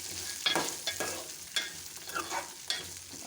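Pigeon peas sauté in hot oil in a pan, giving a close, continuous sizzle broken by several scraping stirs of the spoon.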